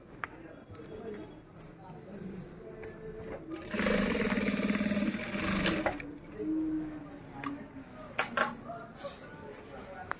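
A sewing machine stitches a girl's old blazer in a tailoring shop, running in a steady whirring burst of about two seconds amid clicks, handling noises and quiet background speech.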